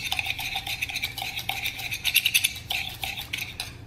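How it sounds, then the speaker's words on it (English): Espresso being stirred in circular motions for Cuban coffee, making a steady run of light scraping and clinking from a spoon against the cup, close and fairly quiet, with no voices. "And then I'm going to start stirring it up. Initially, I'll use some circular motions."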